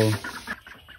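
A few chicks newly hatched from incubated eggs on a farm give short clucking calls, close and fairly loud, in a brief burst that fades quickly.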